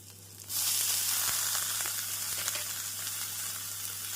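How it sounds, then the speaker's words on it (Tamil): Beans and carrots added to frying onion in a pan for beans carrot poriyal: a sudden loud sizzle breaks out and holds steady, with faint stirring scrapes, and no one talks. "நாம் பீன்ஸ் கேரட் போட்டு ஒரு நிமிடம் வெங்காயத்துடன் நன்றாக கிளறி"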